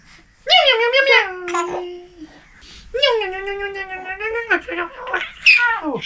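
A voice imitates a cat, giving a run of high, wavering meows in two bursts, loud and close, with brief vocal noises between them.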